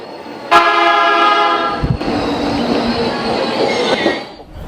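A Tokyo rail system train runs loud and close for several seconds, with a sharp horn-like tone at the start, a steady rolling rumble, wheel squeal and clacking, then fading toward the end.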